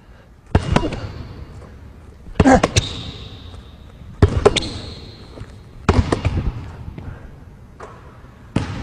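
A basketball bounces hard on a court during a jump shot drill, a few loud, sharp thumps spaced unevenly with bursts of squeaky sneaker scuffs and court noise around each bounce.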